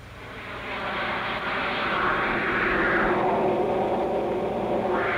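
A 1950s jet fighter aircraft with jet engines roars steadily overhead, a loud, broad rumbling whoosh that swells and holds with no voices.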